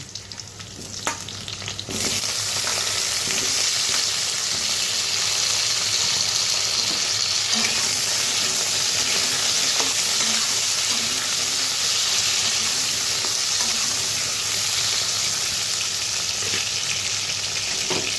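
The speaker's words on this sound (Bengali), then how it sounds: "পেঁয়াজটা হালকা হালকা ভাজা হয়ে গেছে তো এখন আর আলুটা ছেড়ে দেব" Potatoes drop onto lightly fried onions in a hot pan, and a loud, dense sizzle erupts after a quieter opening, then holds steady with faint stirring clicks.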